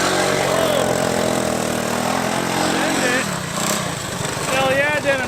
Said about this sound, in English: Despite all the engine noise and transmission issues, the 125 was still proving to be a capable machine in the snowy woods.